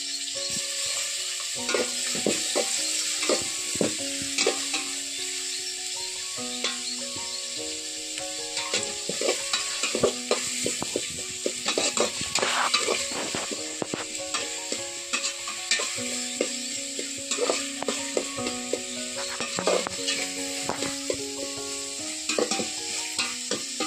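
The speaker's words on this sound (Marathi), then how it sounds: "बारीक चिरलेला कांदा चांगला परतून घ्यायचा आहे" Finely chopped onion sizzles and fries over a wood-fired stove for chicken biryani, with a spoon stirring and scraping the pan in frequent clattering strokes throughout; no talking.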